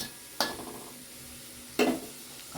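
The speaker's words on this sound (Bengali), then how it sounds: "এবার জল দিয়ে দেবো।" Water splashes into a pan of sautéed spices with a sudden hiss, then a second louder pour and sizzle follows a moment later, close and alone, while preparing a Bengali shing fish curry.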